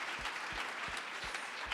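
An audience at a French women's business awards ceremony applauds, a soft, even wash of many hands clapping at a distance with no voices over it.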